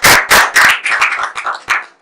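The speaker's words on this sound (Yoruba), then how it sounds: "Ẹ pàtẹ́wọ́ fún." A small audience claps for a contestant in a short burst of close, sharp hand claps, starting loud and then thinning to scattered claps.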